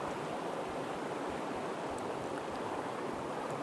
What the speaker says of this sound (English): Over to our right is a river. I believe that's the Denali River.